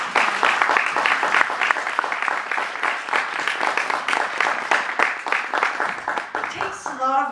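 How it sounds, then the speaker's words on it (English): A crowd at a women achievers award ceremony gives a big round of applause, dense rhythmic clapping that stays loud and steady for several seconds before trailing off, with a brief voice at the very end. "a big round of applause for PACE and RMM"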